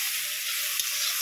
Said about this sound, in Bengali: এই যে মাছ ভাজা চলছে